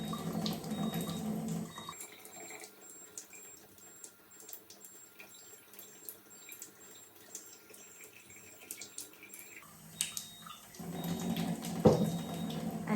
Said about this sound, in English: Okay, so now collecting some Kangen water.